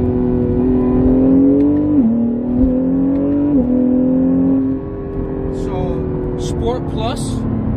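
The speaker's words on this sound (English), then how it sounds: "now listen to the shifting." A car in sport plus mode revs and shifts through gears, its engine note rising and dropping at each change, loud and close, before settling lower with brief higher whines near the end.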